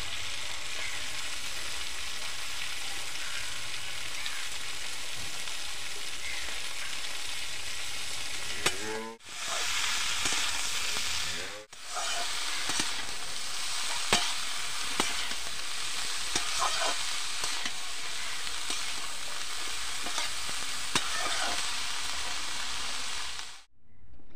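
Cabbage sautéed in spice masala for a prawn curry makes a long, close, continuous sizzle with scraping stirs and occasional clinks, broken by two brief dips in sound and ending with a sudden cut-off; no one speaks.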